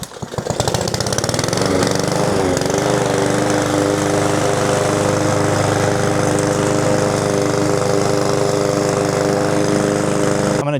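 PowerSmart 22-inch self-propelled rear-wheel drive gas lawn mower starting and then running steadily, a loud, close, continuous engine drone with a buzzing hum.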